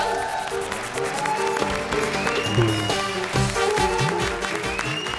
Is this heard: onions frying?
no